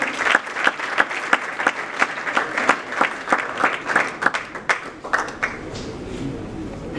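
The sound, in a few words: audience applause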